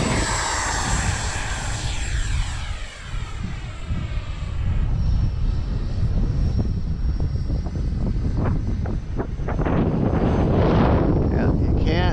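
An X-Fly TA-7 RC airplane flies on a windy day, its engine droning steadily with rising and falling pitch as it passes, while wind buffets the microphone and people talk nearby.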